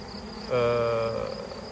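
A honeybee colony calls its swarm home during a bee recovery, a close, loud buzzing hum that rises suddenly and holds steady for about half a second before easing back into a quieter background drone.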